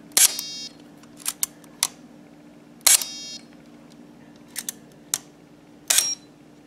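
An aging old film camera's shutter fires repeatedly at a slow 1/12 second setting, several sharp separate clicks with short gaps, close and loud against a quiet steady hum.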